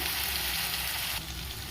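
Chicken seasoned with ground black pepper fries slowly in a pan for spicy chicken pasta, giving a steady, close, even sizzle that holds without a break for under two seconds.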